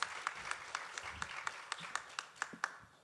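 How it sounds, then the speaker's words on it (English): Scattered applause from a talk-show audience at an anniversary event, with a steady run of distinct claps standing out over a soft crowd bed, moderately distant and fairly quiet. "applause"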